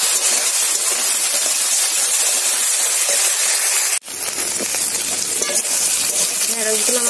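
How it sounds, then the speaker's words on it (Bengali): Okra fries in a hot pan with a loud, close, continuous sizzle; a sharp knock interrupts midway, after which the hiss resumes with stirring scrapes and a low background hum. "ঢেঁড়শগুলো দিয়ে এবার একটু ঢেঁড়শগুলো ভেজে নেবো।"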